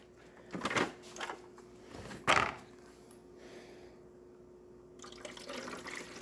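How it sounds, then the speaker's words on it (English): Water pours and splashes into the water tank of a De'Longhi PrimaDonna Exclusive coffee machine in two short bursts, followed by a softer steady trickle and faint hiss. "let's just fill that water tank"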